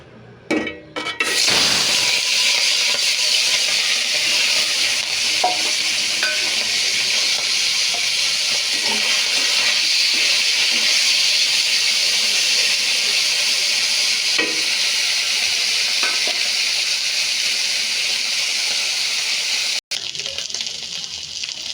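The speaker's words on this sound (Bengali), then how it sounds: "প্রথমে আমি মাছগুলোকে ভেজে নেব" Steady, loud sizzling of small fish frying in hot oil, with occasional clinks and stirring sounds, continuing for about twenty seconds.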